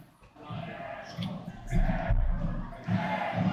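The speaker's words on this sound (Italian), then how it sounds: "Con entrambe le tifoserie che si fanno sentire." Football supporters of both sides at Briamasco stadium during DaVinci versus Galilei, producing a steady crowd roar and chanting with rhythmic swells, moderately distant and continuous throughout.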